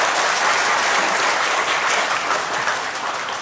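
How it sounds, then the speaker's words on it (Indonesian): Sustained audience applause fills a ceremony for the official opening of an Islamic boarding school, a dense, steady wash of clapping at fairly loud level, fading slightly toward the end with no speech over it. "tepuk tangan dulu untuk mereka ini"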